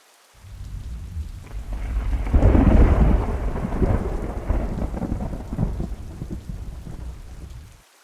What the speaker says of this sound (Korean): 천둥 번개가 치면서 비가 더욱 거세게 내리기 시작했습니다